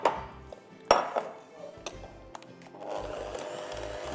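Wet stirring and scraping of a caramel mousse mixture in a bowl, with a few sharp utensil knocks against the rim and a soft, steady swish toward the end; no talking.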